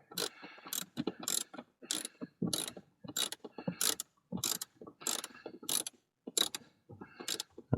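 Plastic air filter housing fasteners on a 2012 Chevrolet Silverado are tightened by hand in quick bursts of ratcheting clicks, each burst followed by a short pause in a repeating rhythm, close and clear with no talking.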